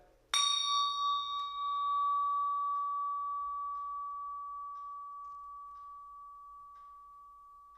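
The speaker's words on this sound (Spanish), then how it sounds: "sonidos como las campanas tibetanas" One clear metallic strike of a Tibetan bell rings out, then a pure, steady tone hums on and slowly fades over several seconds in near silence.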